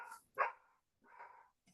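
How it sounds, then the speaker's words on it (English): Indoors, a dog gives a few short, muffled barks, separated by brief pauses, somewhat distant and faint. "So the dog's gonna bark until she comes in."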